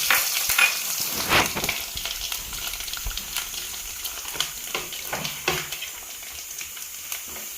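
Grated coconut browning in a pan with cardamom, star anise, cloves, cinnamon, poppy seeds and mace for a roasted-coconut beef curry, giving a steady close sizzle with scattered scraping stir strokes, no voices.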